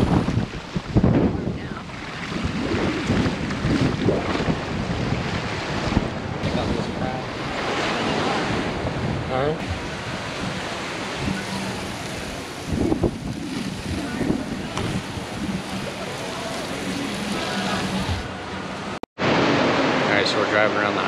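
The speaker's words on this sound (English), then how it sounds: "It's really windy." Strong wind buffets a microphone at a coastal lookout on Maui's Kahekili Highway, roaring continuously with gusty low rumble and surf-like wash throughout, briefly cutting out near the end.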